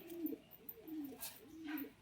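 A female pigeon coos softly a few times, low rolling calls in a quiet, close setting.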